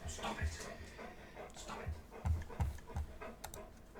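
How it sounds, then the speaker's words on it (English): A dog pants and gives soft whimpers in the background, quiet and intermittent, while someone talks over it during a live trading stream. "I'm really sorry about the dog noise"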